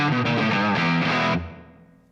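Electric guitar played through an Atomic Amplifire with a splash of reverb, a loud distorted sustained chord that cuts off and leaves a short reverb tail fading out.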